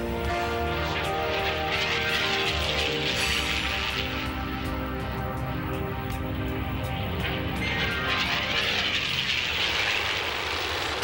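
WWII fighter aircraft roar at full power during a carrier takeoff, a loud sustained piston-engine drone with propeller buzz that swells and shifts in pitch throughout.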